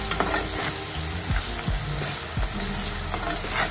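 Black chickpea curry masala, spiced with cinnamon, is stirred in a pan with a steady close sizzle and a few scraping strokes of a spoon, with no talking.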